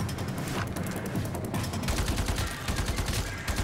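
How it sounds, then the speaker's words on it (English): Rapid automatic gunfire from a weapon in the sci-fi shooter Warframe, a loud, continuous stream of sharp shots that turns heavier and more pulsing in the second half, with no voices. "Oh, the noise of that gun."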